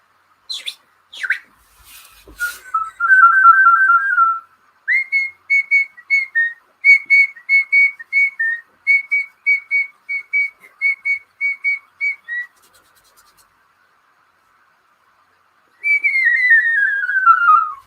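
A person whistles a tune in short, bright, clipped notes, first a quick run, then a long steady series of repeated pitches, a pause, and a final descending phrase, close and clear with no talking.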